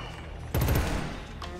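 A sudden loud burst of rapid automatic gunfire in the Killzone Shadow Fall video game, breaking a quiet stretch and then trailing off into lingering ambient noise.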